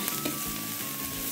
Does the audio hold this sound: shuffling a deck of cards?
no